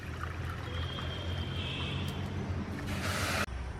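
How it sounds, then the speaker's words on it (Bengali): Water poured from a bowl into a kadai holding a bowl of sugar to start a sugar syrup, a steady close pour building to a louder splashing gush near the end, then stopping abruptly. "1 বাটি চিনি নিয়েছি, 1 বাটি জল দিয়ে দেব।"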